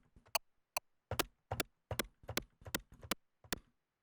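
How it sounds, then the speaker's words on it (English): Short synthesized noise-burst clicks from a Yamaha Reface CS, a string of about eleven sharp, dry ticks in an uneven rhythm, close and fairly quiet, with no voices. "For the click, we create a short noise burst."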